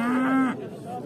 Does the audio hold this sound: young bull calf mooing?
yes